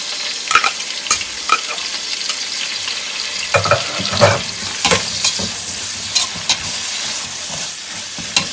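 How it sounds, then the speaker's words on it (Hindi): Close, steady sizzling of tomatoes, green chillies, ginger and garlic paste frying in a pot, broken by scraping stirs and occasional clinks of a spoon, with no talking. "अदरक और लहसुन का पेस्ट ऐड कर देंगे और मज़ीद भूनेंगे इसको"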